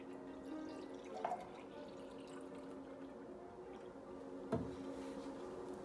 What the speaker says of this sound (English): Pour in your freshly made iced tea.